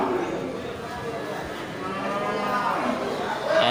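Cattle low with drawn-out moos at a busy animal market, the calls rising over a dense, steady crowd din with mingled voices throughout.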